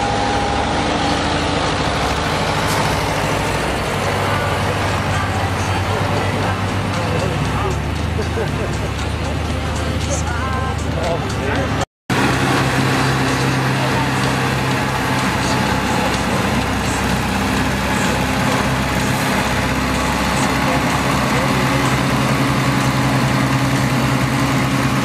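Powerful tractors over 101 horsepower, built up to 1990, rumble steadily at a tractor pulling event, their heavy low drone loud and continuous with only a brief gap partway through.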